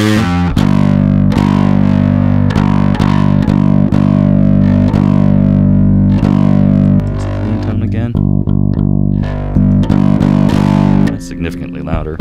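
Electric guitar played through a First Act distortion pedal and a TC Electronic Gravity, a loud, gritty, sustained chord with strummed attacks and ringing notes, alone with no talk.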